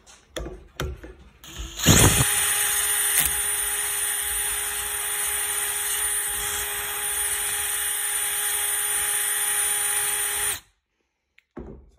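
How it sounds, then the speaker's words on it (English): A few clicks and knocks, then a power drill whirs loudly and continuously at close range for about eight seconds, drilling into a metal belt tensioner with cutting fluid, before stopping abruptly. "Get our drill."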